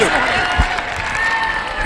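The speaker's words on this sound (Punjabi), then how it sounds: "ਤਾੜੀ ਮਾਰ ਦੋ ਦਰਸ਼ਕੋ" Spectators at an outdoor village kabaddi tournament in Badbar, Barnala, clap together in a dense, continuous round of applause, close and loud, with a commentator's voice over it.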